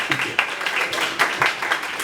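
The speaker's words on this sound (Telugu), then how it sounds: "మీరందరూ వాళ్ళకి చప్పట్లు కొట్టండి." Audience applause for the cast of a stage play, a dense, continuous wash of many hands clapping, moderately loud and sustained.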